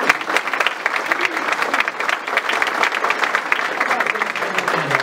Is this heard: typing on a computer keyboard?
no